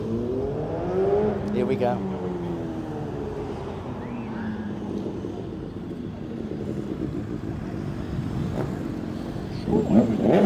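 Motorcycles riding past at Matlock Bath, engines roaring continuously nearby, with a rising rev as one passes, and people talking over the traffic.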